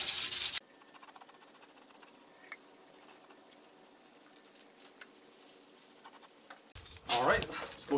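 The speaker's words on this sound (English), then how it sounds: "I'm going to scuff this up a little bit" Abrasive scuffing trailer paint before painting: soft, close rubbing and scraping strokes continue between louder bursts at the start and end, with a person talking.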